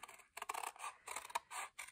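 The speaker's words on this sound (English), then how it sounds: "using my scissors." Scissors snip through paper for a paper space shuttle cutout, a quick run of close, crisp cutting strokes in an uneven rhythm with no talk.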